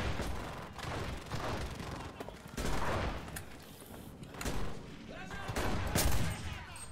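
Rifle fire in the WWII shooter Enlisted during the Battle for Berlin, with loud shots and bursts of gunfire repeating through a busy battlefield, while someone talks over the action.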